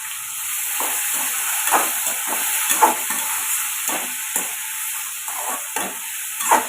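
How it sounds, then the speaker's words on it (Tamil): Bottle gourd with salt sautés in a pan, giving a constant hiss and sizzle broken by soft scraping stirs of a spatula, close by and without any voices. "சுரக்காய்க்கு தேவையான உப்பு சேர்த்து வதக்கி விட்டுக்கோங்க"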